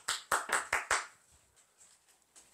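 One person claps hands five times in a quick, even rhythm, close and fairly loud, then the sound falls away to near silence with faint small knocks.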